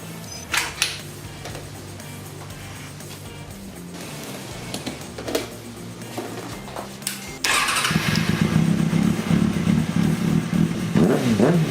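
A Kawasaki ZX-6R sport bike under a build cranks over with clattering starter noise, then catches around the midpoint and settles into a loud, steady idle that carries to the end, with a blip of revs near the finish.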